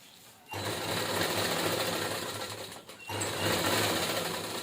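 A sewing machine stitches a tiffin bag made from blouse fabric, its rapid mechanical whirr starting abruptly, running loud and steady, briefly pausing, then resuming close by.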